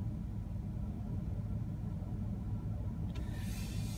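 A pickup truck engine runs with stability control switched off, a steady low idling rumble close by with a brief brighter click-like noise near the end and no talk.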